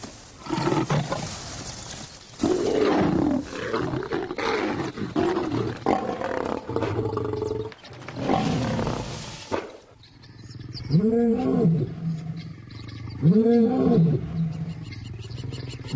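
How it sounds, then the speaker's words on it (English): Wild lions roar in the African bush, a run of deep, loud, guttural roars and growls, several overlapping at first, then two distinct rising roars near the end, with no talk. "And as they roar their displeasure, the cubs scatter into the bush"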